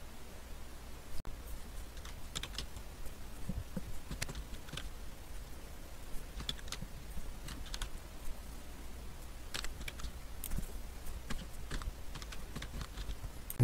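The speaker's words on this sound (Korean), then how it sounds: "아이디를 입력을 해줍니다" Someone typing an ID on a computer keyboard, with soft, irregular keystrokes pattering steadily for over ten seconds over a faint background hiss and no voices.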